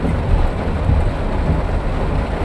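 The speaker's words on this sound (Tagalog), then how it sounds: "Grabe ang ulan. Bagyo na nga yata ito." Heavy rain falls during a typhoon in traffic, a steady loud broadband roar and wash with low rumbling underneath, constant throughout with no voices.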